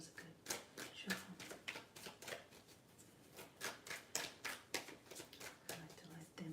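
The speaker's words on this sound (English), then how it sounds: "I feel like that was a good shuffle." Tarot cards shuffled by hand in a quiet ASMR setting, a soft rhythmic series of riffling taps and slaps repeating throughout, close and gentle, with faint speech underneath.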